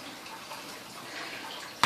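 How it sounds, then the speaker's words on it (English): Tap water runs in a steady, moderate wash as hands are rinsed at a kitchen sink, ending in a brief louder splash. "We're going to go ahead and rinse off our hands"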